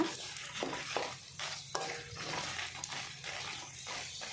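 Chicken curry frying in a pan and being stirred, with a steady soft sizzle under repeated scraping strokes of a spoon roughly every half second.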